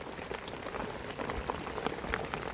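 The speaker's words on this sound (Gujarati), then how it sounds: "વરસાદ પણ જો પડી રહ્યો છે ઝરમર ઝરમર." Light drizzle patters softly on surfaces around a hut amid green surroundings, a faint, steady scatter of small drops with no voices.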